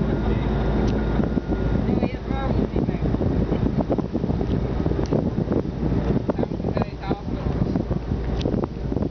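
A boat's engine drones steadily as the boat departs Rencontre East, heading for Bay Large, loud and close, with heavy wind buffeting the microphone throughout.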